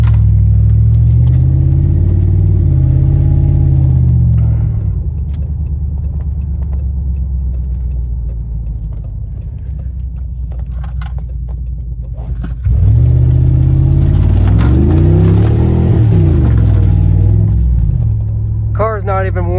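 A cheap $1,200 car with about 222,000 miles hums and rumbles on the road while cold, a steady low drone that dips, then rises again under acceleration, close and loud, with someone talking over it.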